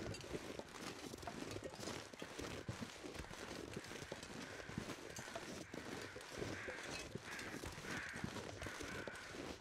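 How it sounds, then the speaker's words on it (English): Crows caw intermittently in The Long Dark, in a hushed river area on a mountain survival run, as scattered harsh calls over faint ambient noise and soft rhythmic footsteps, with no talking. "Got some crows."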